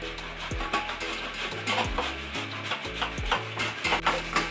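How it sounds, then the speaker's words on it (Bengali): Cauliflower rubbed over a coarse grater, a close rhythmic rasping repeated in quick strokes about twice a second, with small knocks at each pass. "কপিটাকে এইভাবে করে আমি গ্রেট করে নেবো।"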